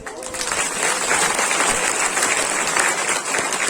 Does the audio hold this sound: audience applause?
yes